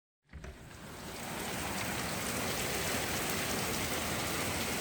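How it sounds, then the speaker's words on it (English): Heavy pouring rain rises in from silence and settles into a dense, steady hiss of drops striking surfaces, loud and continuous with no voices over it. "The sky is pink and it is pouring."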